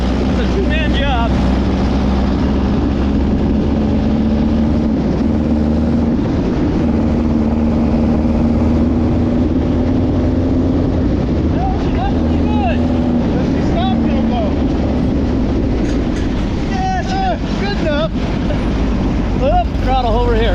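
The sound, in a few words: free dune buggy engine driving through gear shifts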